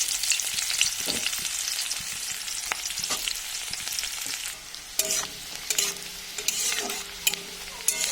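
Chopped onion is added to hot oil with cumin seeds in a wok and stirred, giving a constant sizzle broken by repeated scraping and clanking spatula strokes, close and fairly loud, with no speech.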